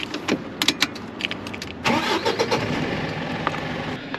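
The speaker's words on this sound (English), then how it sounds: "I've just obviously fired up the engine" A camper van's engine cranks and catches partway through, then settles into a steady idle, close and fairly loud, on a stormy, windy day on the Blackpool seafront in the UK.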